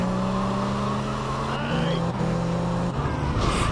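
A car drives in GTA Vice City with a steady engine drone and shifting pitch as it accelerates, loud and continuous throughout.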